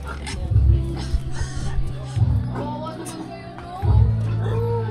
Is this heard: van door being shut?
no